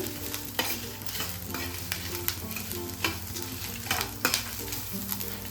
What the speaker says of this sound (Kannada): ಇದನ್ನು ಎಣ್ಣೆಯಲ್ಲಿ ಚೆನ್ನಾಗಿ ಫ್ರೈ ಮಾಡ್ಕೊಳ್ಳಿ.